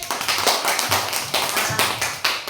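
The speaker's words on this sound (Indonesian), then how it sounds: "tepuk tangan buat kelompok tangkai." Classroom of students clapping for a group in an Indonesian lesson: quick, rhythmic bursts of claps in a patterned beat, close and fairly loud.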